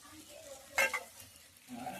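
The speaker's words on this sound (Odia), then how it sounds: "ପିଆଜ ଭଜା ଚାଲିଛି" Onions frying in a little oil on a clay stove in a village home, with a stirring scrape and a brief burst of sizzle near the middle over a quiet background.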